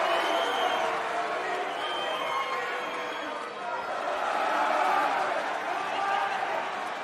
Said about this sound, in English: Hear the crowd? They know it's time for things